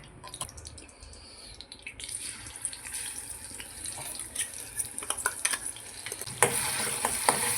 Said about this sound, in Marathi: हा सगळा व्यवस्थित फ्राय करून घ्यायचा आहे मसाला